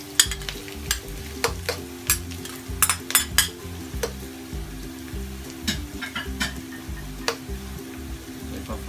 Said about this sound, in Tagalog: ipa-fry lang din po natin ang ating bawang